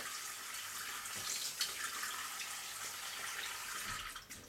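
Water runs steadily from a tap in a continuous hiss, fairly quiet, with a brief splashy change near the end as the flow shifts.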